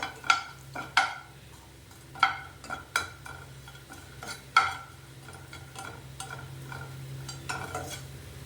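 Asafoetida lumps frying in a pan are stirred, with sharp scraping clacks of a spoon against metal at irregular intervals over a faint, steady sizzle.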